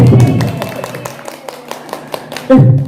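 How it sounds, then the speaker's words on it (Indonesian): An audience at a storytelling competition event claps hands in a scattered, moderately loud patter, with a voice speaking over the start and end. "Tepuk tangan dong buat"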